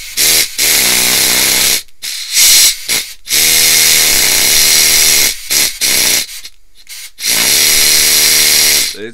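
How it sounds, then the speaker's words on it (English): Pneumatic graver machine running in loud, close bursts of buzzing, hissing vibration, starting and stopping several times with short silent gaps between runs, no voices. "it's doing what a pneumatic graver should do"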